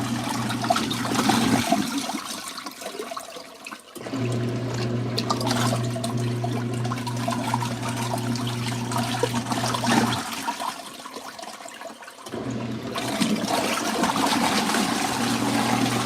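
Water runs steadily in an LG ThinQ MEGA washer during a rinse cycle on a normal default setting, with a constant rushing flow and a hum that cuts out briefly twice before resuming.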